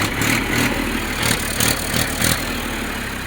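A Massey Ferguson 1035 Maha Shakti tractor with a 39-horsepower diesel engine runs at idle, a loud, close, rough chugging with a steady pulsing beat and no talk.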